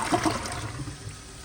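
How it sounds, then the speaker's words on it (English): A 2008 Jacuzzi Espree toilet flushing with a close, rushing swirl of water that tapers into a softer trickle as the bowl rinses. "here is another flush"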